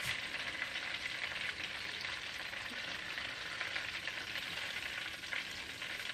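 Butter and oil nearly an inch deep heat in a frying pan for apple pies, giving off a steady, even sizzle with a soft hiss throughout and no talking.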